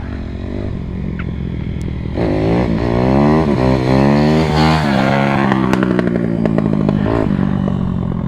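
Loud dirt bike engine revving hard as it rides past, the pitch climbing and falling in rising sweeps with clatter and scraping, close and dominant with no talk.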